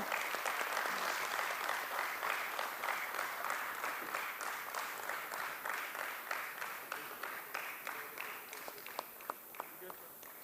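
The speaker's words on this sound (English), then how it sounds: "could we have that round of applause flowing?" An audience applauds at a stock exchange listing ceremony for Endurance Technologies, a sustained, fairly distant wash of clapping that thins toward the end into scattered individual claps.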